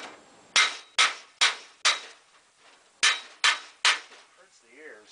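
Hammer striking a 1/4-inch 2x3 steel piece to flatten it, seven sharp ringing metallic blows with short decays, spaced irregularly and heard up close, plus a faint voice near the end.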